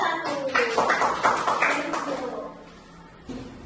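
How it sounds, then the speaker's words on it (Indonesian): A classroom of students clapping for a group, a short, brisk burst of applause that tapers off, with a voice briefly audible near the end. "Tepuk tangan untuk kelompok"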